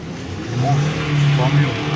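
A Nissan Navara engine revs after a turbo repair, a steady mid-pitched drone that swells and holds with a faint rising whine, close and fairly loud, while voices talk over it.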